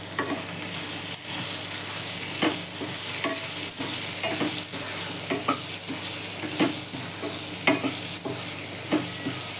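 Cumin and mustard seeds sizzle and crackle in hot oil in a pan for stuffed okra, a steady close frying hiss broken by sharp pops and stirring scrapes throughout, with no talking.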